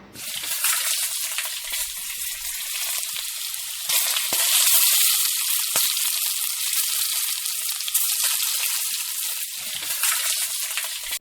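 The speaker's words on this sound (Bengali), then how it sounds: "গরম হয়ে গেলে এর মধ্যে বড়াগুলো দিয়ে দিতে হবে এবং সুন্দরভাবে ভেজে নিতে হবে" Beef pakoras deep-frying in hot oil in a saucepan make a continuous loud bubbling sizzle with a few sharp pops and clinks, close and without voices.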